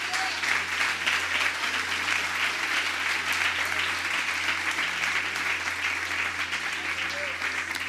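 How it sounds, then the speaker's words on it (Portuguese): Church audience applauding during a sermon, dense sustained clapping at even level throughout, with faint voices beneath it. "Você pode aplaudir o nome dele nessa noite?"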